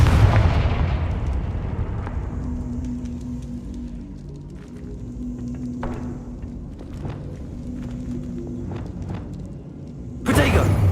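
Confringo fire-spell blasts in Hogwarts Legacy, a heavy explosion that booms and slowly decays, followed by scattered magical impacts and footsteps, then another sharp loud burst near the end.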